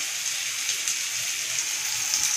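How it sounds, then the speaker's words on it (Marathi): Cleaned, cut chicken liver hits a hot pan for a thick Maharashtrian masala, and a steady, bright sizzle hisses continuously without pause. "कलेजी चिकनची आहे, कट करून चांगली स्वच्छ करून घ्यायची, अशी असते."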